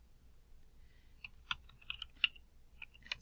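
Keys tapped on a computer keyboard while a password is entered, a quiet irregular run of light clicks over a soft low room hum, with no voices.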